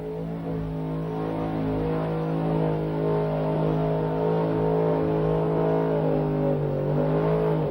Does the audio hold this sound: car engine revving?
yes